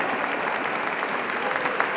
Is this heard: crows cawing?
no